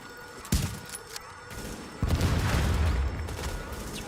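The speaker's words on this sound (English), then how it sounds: "It's probably from all the explosions going on" Video game explosions burst out in a sharp blast, then a heavier rumbling one, followed by a sustained roar of booms and crackling debris, loud and close.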